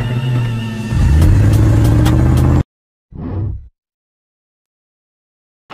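A car engine revving sound effect roars loudly for about two and a half seconds with rising whine, then stops abruptly. A shorter, fainter burst follows after a brief silence.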